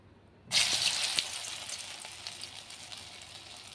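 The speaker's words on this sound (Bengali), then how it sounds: "এদিকে আমার কড়াইতে তেল গরম হয়ে গেছে। আমি বড়াগুলি কিন্তু সুন্দর করে দিয়ে দিব একটা একটা করে।" Fritters dropped into hot oil in a kadai. Quiet at first, then a sudden loud burst of hissing sizzle that eases into a steady, bubbling fry.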